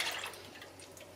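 Milk poured into a pan for a cauliflower cheese sauce, a soft, steady trickling and splashing of liquid heard close up on its own for about a second.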